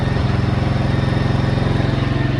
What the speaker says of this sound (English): we're gonna let it sit here and run a little bit